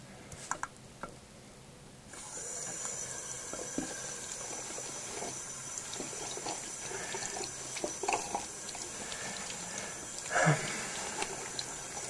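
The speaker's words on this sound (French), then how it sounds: "Donc je vais vous appliquer de l'eau." A salon tap starts running about two seconds in and pours steadily while hair is rinsed at a shampoo basin, close and continuous with occasional splashes and handling sounds.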